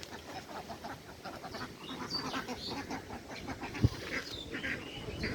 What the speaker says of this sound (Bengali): সুন্দর সুন্দর হাঁস